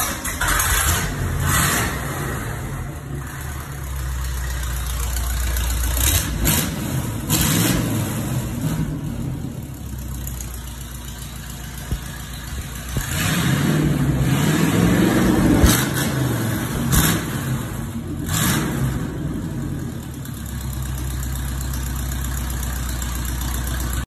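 A loud, rough 350 V8 in a Chevrolet Squarebody truck idles with a straight-pipe, unmuffled exhaust, rumbling steadily with a few brief revs swelling up before settling back to a lumpy idle.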